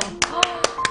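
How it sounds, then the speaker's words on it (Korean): Hands clap in a steady run of four sharp, close claps spaced evenly about a fifth of a second apart over a faint background tone. "절로 박수가 나옵니다"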